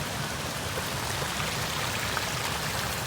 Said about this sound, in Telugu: back side water fall